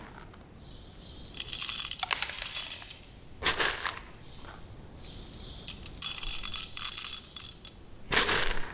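Coffee grounds are poured and knocked out of a manual hand grinder, giving bursts of gritty rattling and metallic clinks separated by short quiet gaps.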